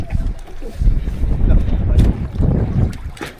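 Steady wind buffets the microphone in low rumbling gusts on a river, with a faint watery wash of a boat underneath.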